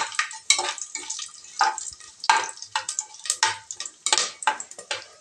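Bay leaf and cardamom fry in hot oil for chicken biryani, a close, fairly faint crackle broken by repeated scraping stirs of a spoon in the pan.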